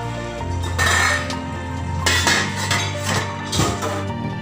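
A metal lid clanks onto a pot of boiling laing a few times, with clinks and rattles over steady background music.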